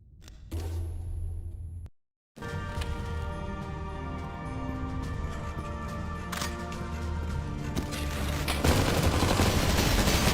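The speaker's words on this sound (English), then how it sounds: "That includes a Tommy gun." A Tommy gun rattles out a long, continuous burst of automatic fire in a Doom mod video game, loud and dense, briefly cut off by a short gap before the fire resumes and keeps going.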